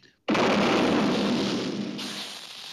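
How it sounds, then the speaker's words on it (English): A cartoon explosion from Rocky & Bullwinkle bursts in suddenly after a brief quiet moment, a loud, broad roaring blast that stays strong and then slowly fades while still rumbling. "it exploded."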